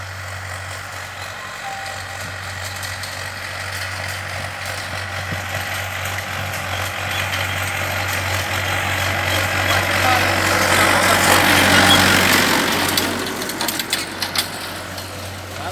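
Two farm tractors, a Mahindra 585 and a Farmtrac 6055, run together while levelling a field, their steady low engine drone swelling louder mid-clip before easing off, with no talk over it.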